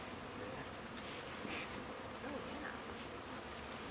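Bees buzzing inside a package can that holds a bee package for a new hive, a steady close droning hum with no talk.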